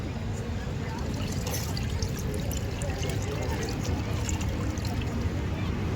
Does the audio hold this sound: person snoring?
no